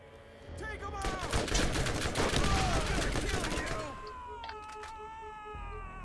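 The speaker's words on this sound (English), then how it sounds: "I'm being shot here, Konoa." Rapid bursts of gunfire in the Borderlands co-op campaign, loud dense shots for a few seconds that then thin out, with game voices and effects in the background.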